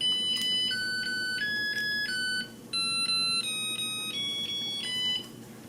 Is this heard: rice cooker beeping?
yes